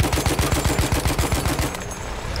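Rapid, loud bursts of automatic turret fire in Battlefield 1, a fast regular train of shots that cuts off near the end.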